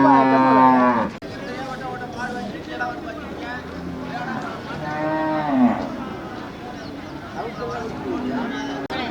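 Cattle, including draught bullocks, low repeatedly at the busy Manapparai cattle market, the deep moos rising and falling amid crowd chatter and nearby talk.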